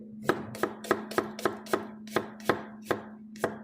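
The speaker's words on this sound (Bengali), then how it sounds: "তো এখন যেটা কাটছি এটা হচ্ছে চপ করা বলে এটাকে" A knife finely chopping onion on a cutting board: about a dozen evenly spaced, sharp chops, close and distinct, with no talking.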